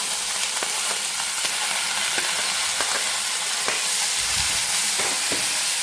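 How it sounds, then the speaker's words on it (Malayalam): Cut lemon pieces drop into hot oil for a Kerala-style vadukapuli lemon pickle, setting off a steady loud frying sizzle with scattered crackles and pops and a few stirring scrapes, no voices. "ഇനി നമുക്ക് കട്ട് ചെയ്ത് വെച്ചിരിക്കുന്ന നാരങ്ങ അതിലേക്ക് ഇട്ട് കൊടുക്കാം"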